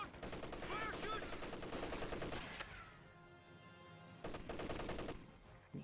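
Sustained MG34 machine gun fire in the video game Company of Heroes 2, with dense rapid bursts that pause and resume amid battle noise, loud and continuous.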